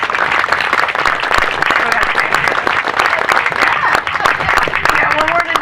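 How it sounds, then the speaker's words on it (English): An audience at a golf teaching summit applauds in a dense, steady burst of clapping that lasts several seconds, close and loud, with some voices mixed in. "Can we give her a round of applause?"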